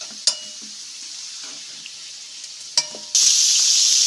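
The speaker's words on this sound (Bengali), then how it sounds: "এখানে ডুমো ডুমো করে আলু কেটে রেখেছি, আলুগুলো ভেজে নেব।" Diced potatoes fry in oil left from frying jackfruit: a soft steady sizzle with a couple of sharp utensil knocks, then a sudden louder burst of hissing near the end.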